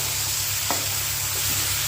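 Curd-marinated food fries in a pan over a lowered gas flame, giving a steady, close sizzle with a few soft scraping stirs.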